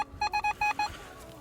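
A metal detector gives five short, bright electronic beeps in quick succession, a steady pitched tone pulsing on and off, then quieter background noise.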